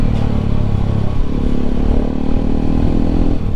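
Bajaj Pulsar RS 200 motorcycle with its stock engine, ridden through a city on a wet road, giving a loud, steady engine drone with rough clatter and no break, close and unaccompanied by voices.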